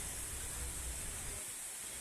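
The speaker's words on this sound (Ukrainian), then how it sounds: "І ось ми нарешті дійшли до водоспаду." Waterfall in Shilparamam park, Hyderabad, giving a steady broadband rush of falling water with a low rumble underneath, constant and fairly distant throughout.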